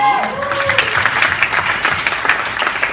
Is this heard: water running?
no